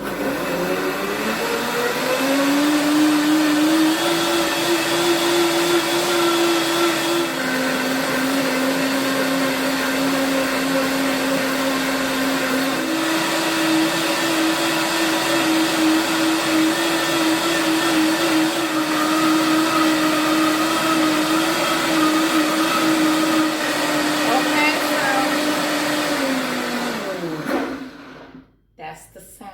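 A blender whirs aquafaba and sunflower seed oil into vegan mayonnaise in one long, steady, loud whine that shifts pitch slightly a few times before cutting off abruptly at the end.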